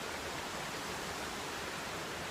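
Water pours steadily over the falls at Hyatt Reservoir, a constant broad rushing hiss with no breaks, fairly faint and even throughout.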